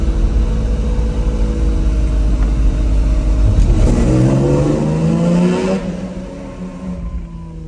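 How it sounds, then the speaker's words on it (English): A car engine revs hard in second gear through a tunnel at Fuji Speedway during a European car track day, a loud, close, echoing roar that climbs in pitch, then eases off and fades near the end. "Let's see if we can get some nice sounds in second gear."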